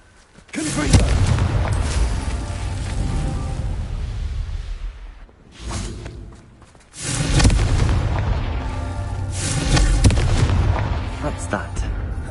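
A Confringo blast spell explodes in the Hogwarts Legacy video game, with loud booming rumbles that roll into long crackling decays and a brief dip before a second heavy burst.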